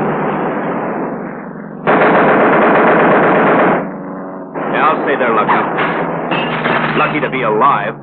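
Rapid bursts of machine gun fire from a bomber's waist gunner, loud and close, several sustained volleys with brief pauses between them, and a military training setting.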